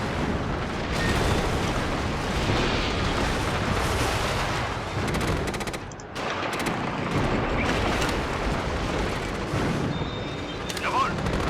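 Missile strikes and explosions in the Axis & Allies strategy game, a dense, continuous barrage of booms and blasts that barely lets up, with a brief dip midway and some faint game voices mixed in.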